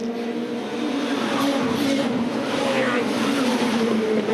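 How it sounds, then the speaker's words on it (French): Touring cars race past at the 2006 WTCC round in Macau, their engines droning loud and steady with a rising surge, while a commentator speaks over them. "les 6 voitures de tête qui sont regroupées maintenant avec Priaulx, Huisman, Yvan Muller, Farfus"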